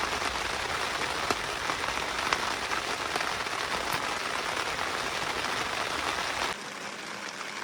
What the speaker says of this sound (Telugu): బయట వర్షం కూడా చేస్తుందండి.